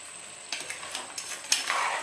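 Crab pepper fry with crushed pepper and coconut milk stirred in a pan, with soft sizzling and several light spoon scrapes over a steady simmer.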